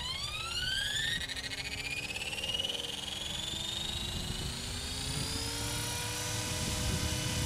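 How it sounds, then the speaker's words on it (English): An RC 450 GT helicopter with a Turnigy 500 motor spins up, its whine rising steadily in pitch with layered rotor buzz, close and continuous, no talking. "this is my second 450 GT, and I'm just going to show you how powerful it is with the Turnigy 500 motor"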